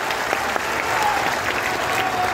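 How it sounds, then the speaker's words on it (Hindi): Loud, dense applause from a large crowd at a public political event welcoming Union Minister Nitin Gadkari to the stage, a steady wash of many clapping hands throughout. "एक बार जोरदार तालियों से स्वागत करो माननीय नितिन गडकरी जी का।"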